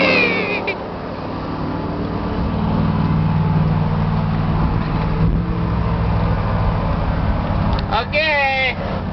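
A GMC truck engine runs steadily, a loud continuous rumbling drone throughout, with a brief squealing, wavering tone near the end.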